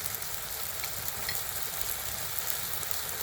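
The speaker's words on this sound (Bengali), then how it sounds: "মশলাটাকে খুব ভালোভাবে কষিয়ে নিব" Spice paste of ground coriander, ginger paste, cumin powder and salt fries steadily in a pan, giving a continuous close sizzle with no pauses or voices.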